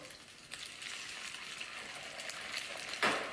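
Mushrooms, bacon and ham sautéing in a pan, giving a steady broadband sizzle with a few sharper crackles and a louder burst of frying near the end, close and without talk.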